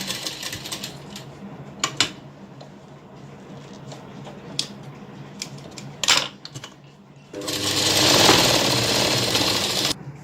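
A sewing machine stitches the lining of a katori-style designer blouse in short, intermittent bursts, ending with a longer, louder run of fast stitching close by.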